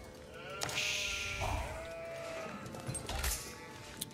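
Sheep bleating in the Age of Empires IV strategy game, a couple of clear wavering bleats over quiet game ambience, fairly close and loud, no talk over them.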